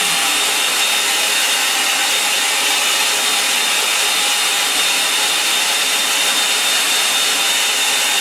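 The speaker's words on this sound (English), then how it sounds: "Bring the brush, and I'll dry it off a little bit." A hair dryer blowing over a wet watercolor painting, a loud, steady, close broadband whoosh that holds unbroken from start to finish.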